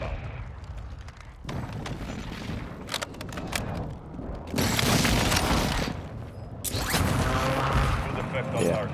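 An artillery strike in the Call of Duty Warzone video game: heavy booms and rolling blasts come in repeated loud waves with crashing debris, and voices are heard talking among the explosions.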